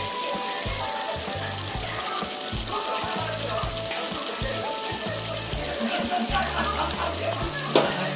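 Chicken frying in oil in a curry pot gives a steady, dense sizzle throughout, close and constant, with soft voices murmuring faintly underneath.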